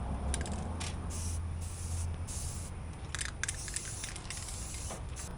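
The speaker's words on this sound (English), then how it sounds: "spray cans are getting wonky." Spray paint can hissing in several bursts, some short, some held, close and fairly quiet, applied during rust repair on a Jeep XJ roof, with no talk.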